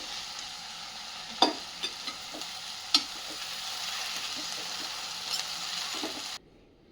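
Fenugreek leaves frying in a kadhai are stirred, making a steady hissing sizzle with scattered sharp spatula taps and scrapes before it cuts off abruptly near the end.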